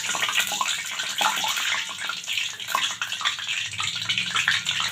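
Potatoes deep-fry in hot salted oil under a metal strainer, making a continuous bubbling, hissing sizzle that surges and eases up close, with no talking.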